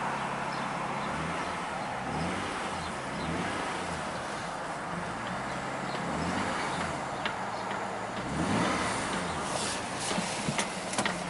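Acura V6 engine idling smoothly at a steady speed, a low even rumble with a faint rapid ticking layered over it, close by and continuous with no voices.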